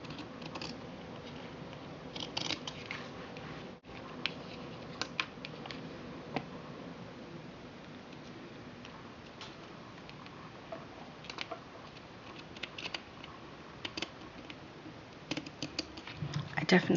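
Scissors snip through material while the maker assembles a stamping plate storage display, giving faint, irregular clicks and crisp cuts spread across a quiet room with light background rustle.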